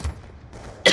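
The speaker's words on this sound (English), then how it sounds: "You're coughing in the mic." A cough goes straight into a microphone, one soft burst at the start, then a loud, close, harsh cough near the end after quiet.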